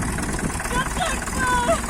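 A tractor engine runs at a steady idle close by, a continuous low rumble with slight vibration, while people talk over it.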